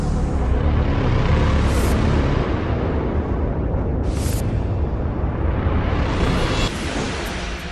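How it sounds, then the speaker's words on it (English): Fires and explosions rage through the Pentagon building in a 9/11 reenactment, a continuous loud roar of flames with bursts and whooshing surges, no voices. "Fires and explosions rage along the plane's 310-foot track through the building"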